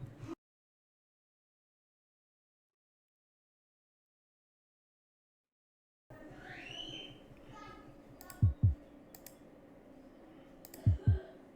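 Computer mouse clicks while signing up on a website: after near silence a faint room hum rises, and three or four crisp, close single clicks land a second or so apart, with a couple of dull low thumps.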